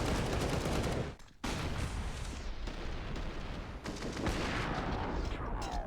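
Gunfire in Counter-Strike during a professional esports match, rapid dense bursts of shots and explosions filling the span, with a brief drop to near quiet about a second in.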